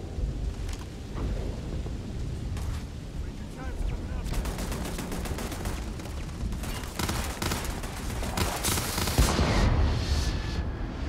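Rapid turret gunfire in Starfield, bursts of sharp cracks crowding together and growing heavier toward the end, with a muffled, thundering undertone as shots punch through walls.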